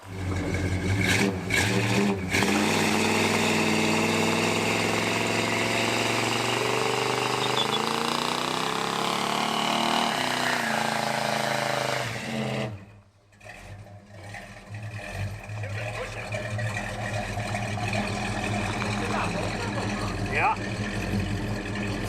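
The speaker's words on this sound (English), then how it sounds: "got this 1970 Plymouth Roadrunner running for the first time in 48 years" A 1970 Plymouth Roadrunner engine, run for the first time in decades after sitting buried for years, roars loud and close with sustained revving, briefly cuts out, then settles into a rougher running idle, with people talking over it.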